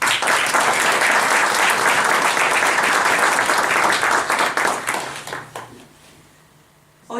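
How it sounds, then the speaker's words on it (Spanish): A large crowd applauds loudly and steadily for several seconds, then the clapping thins out and fades to near silence before a faint sound at the end. "yo pido un fuerte aplauso para todos ustedes"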